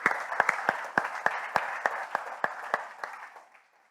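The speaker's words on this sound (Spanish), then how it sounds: "Let's give a hand to our Lord." A church congregation claps together in a loose, moderately loud burst, individual sharp claps standing out over a spread of hand-clapping before it fades away.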